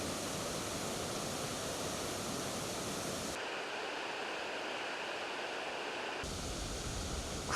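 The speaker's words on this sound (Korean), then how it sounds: "구룡폭포입니다." Guryong waterfall at Mount Kumgang, 74 m high, roars in a steady, dense rush of falling water that briefly turns softer and more distant midway before returning full and loud.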